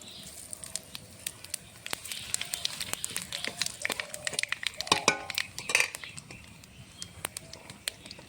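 Bay leaf, dried chilli and whole nigella seeds crackle and sputter in hot oil for a fish curry with greens stalks, with quiet scattered pops, faint clinks of a utensil and a low voice murmuring at times.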